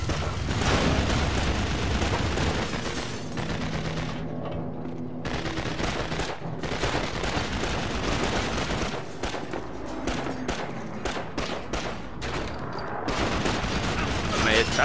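Heavy gunfire in the World War II shooter Call of Duty: The Big Red One, machine-gun bursts and explosions in loud waves with brief lulls, with voices shouting over the battle.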